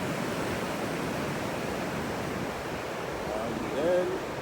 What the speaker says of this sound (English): And you can see the waves.